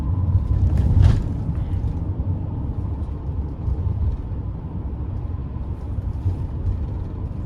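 Steady low rumble of a 2021 Ram Promaster 2500 conversion van driving on the road, heard from inside the cabin, with constant engine and road noise and a brief bump near the start.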